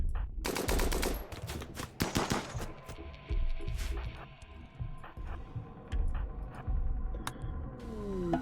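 Rifle fire rattles in the RimWorld video game: dense bursts of rapid shots, loud and close, broken by short pauses before further volleys, with no talking over them.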